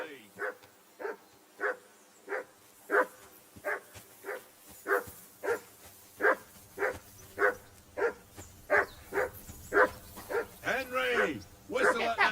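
A dog barks repeatedly in a steady, evenly spaced rhythm, close and fairly loud, ending in a higher whiny yelp, in the video game Kingdom Come: Deliverance II.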